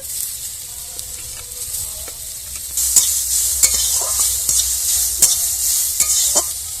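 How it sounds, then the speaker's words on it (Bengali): Bitter gourd frying in hot white oil with chopped garlic and onion in a kadai: a steady loud sizzle throughout with intermittent utensil scrapes and taps, close up, no speech. "আমি কড়া গরম করে নিয়েছি দিয়ে দেবো একটু তেল সাদা তেল দিয়ে দেবো রসুন কুচি একটা পেঁয়াজ কুচি রসুন ভেজে নিয়েছি এরপরে দিয়ে দেবো করলা"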